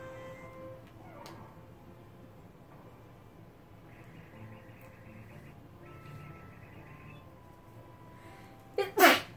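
A single sharp sneeze bursts out at the very end after a long stretch of quiet game background music and faint ambience.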